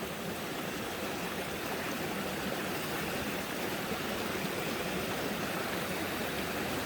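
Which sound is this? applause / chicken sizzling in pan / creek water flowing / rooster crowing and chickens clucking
creek water flowing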